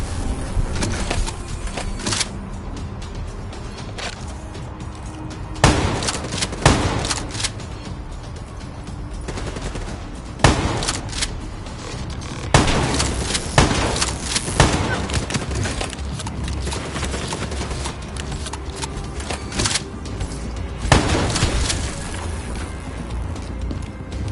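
Gunfire in the Call of Duty Black Ops 3 video game: steady bursts of automatic fire and scattered single sharp shots over a constant mechanical battle din that runs for the whole stretch.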